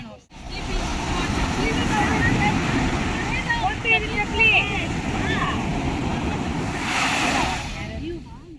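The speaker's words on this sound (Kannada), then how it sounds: "ಸೊ ಜುಮೇರಾ ಬೀಚಲ್ಲಿದ್ದೀವಿ." Surf at Jumeirah Beach in Dubai, a white-sand shore, washes in as a steady broad roar with some wind noise, while people chat nearby throughout.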